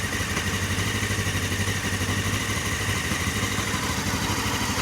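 A Honda CB500 motorcycle engine idles at a slightly raised speed, about 1500 RPM, after carburetor syncing, a steady, even low throb with a fine mechanical clatter.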